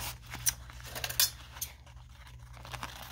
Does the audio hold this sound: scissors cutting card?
yes